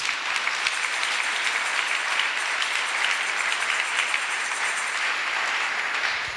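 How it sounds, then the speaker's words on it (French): A church congregation applauds steadily and evenly throughout at a fairly loud level, many hands clapping in a sustained wash with no speech over it. "Est-ce qu'on peut acclamer le Seigneur Jésus-Christ?"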